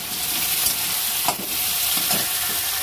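Green chillies and cumin seeds frying in oil in a pan in a small home kitchen, a steady loud sizzle with a few brief stirring scrapes, close up and with no talk.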